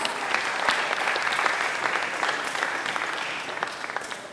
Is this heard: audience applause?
yes